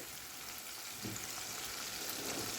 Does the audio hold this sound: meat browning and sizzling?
yes